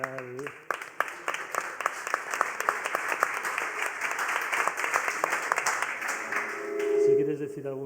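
Audience applause at a talk on robotics ethics, with steady clapping that keeps going while a voice speaks over it near the end.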